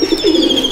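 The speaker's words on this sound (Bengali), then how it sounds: "পায়রাগুলো সবই ডিমে রয়েছে" Pigeons coo in a loft in Durgapur, South 24 Parganas: a single short, close, soft cooing call.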